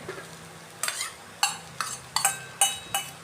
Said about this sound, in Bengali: এখন ভালো করে মিক্স করে আমাদের ঘন্ট প্রায় তৈরি হয়ে গেছে